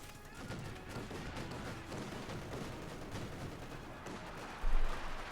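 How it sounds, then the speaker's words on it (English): Heavy flak fire from a flak half-track in Company of Heroes 2, a dense, continuous roll of rapid gunshots and bursts that ends in a louder thump near the end, with a voice faintly underneath. "Some heavy flak fire there"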